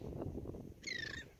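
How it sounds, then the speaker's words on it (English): A single bird at the beach gives a short, faint call with a few clear chirping notes over a low rumble of wind and surf. "Listen to those birds chirping."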